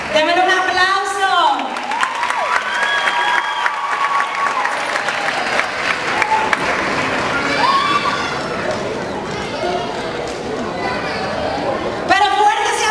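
An audience at a dance show claps steadily while excited voices shout and cheer over it, with high-pitched whoops and calls rising above the applause throughout.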